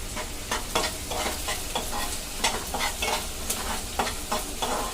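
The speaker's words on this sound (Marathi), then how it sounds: "हेही आपण 2 मिनिटं थोडं परतून घेऊ" Capsicum and other vegetables sauté in a hot pan for egg and sausage fried rice. A steady oily sizzle runs underneath repeated scraping stirs of a spatula, close and clear with no talking.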